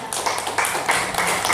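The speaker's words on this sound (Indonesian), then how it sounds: "Kita beri tepuk tangan kepada Yang Mulia" Brief applause breaks out for the visiting Paser Sultanate guest at a traditional welcoming ceremony, a quick patter of many hands clapping together.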